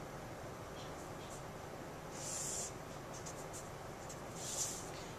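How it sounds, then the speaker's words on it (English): Pen drawing a straight line along a straight edge while graphing equations, two soft scraping strokes over steady background hiss. "Use my straight edge. I'm going to draw a nice straight line here."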